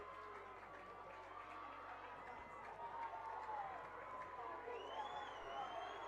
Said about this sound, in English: Nice large crowd here in person for this finals